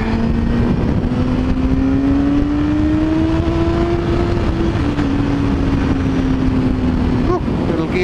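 Yamaha R6 sport motorcycle on the road with a gear change that fails: the engine's pitch climbs steadily, drops briefly, and slides again under loud, constant wind roar, with no talk.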